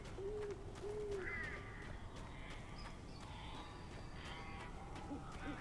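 Strange birds call in the Alan Wake video game, a few hooting, owl-like tones and a short rising chirp sounding over a steady dull ambient rumble, with no talking.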